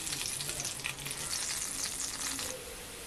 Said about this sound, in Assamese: পিঁয়াজখিনি ভাজি ল'লোঁ